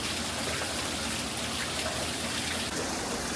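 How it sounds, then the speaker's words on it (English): A small roadside waterfall splashes and gushes with a steady, even wash of water noise that sounds fairly soft and distant and never stops. "look back here, we have a waterfall complete with fish"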